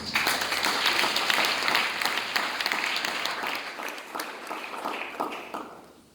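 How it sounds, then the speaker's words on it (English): An audience at a school drama competition awards presentation applauding the judges, a dense, steady burst of clapping from a large crowd that gradually thins and fades out. "Another round of applause for our wonderful judges."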